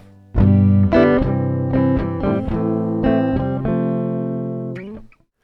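Electric guitar chords played through a Moog Grandmother analog synthesizer, several sustained buzzy strums in a steady sequence, loud and up close, ending after about five seconds.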